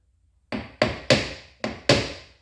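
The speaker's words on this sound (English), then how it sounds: "tap this coupling until I get it so the shaft is running concentric" Five sharp metallic taps ring out one after another as a boat engine shaft coupling is knocked into concentric alignment, each strike close and crisp with a short ringing decay in an otherwise quiet space.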